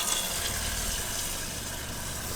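A water pump runs in a DIY camper van conversion, giving a steady, fairly quiet broadband hum and whir with a low rumble underneath, continuous and unchanging throughout.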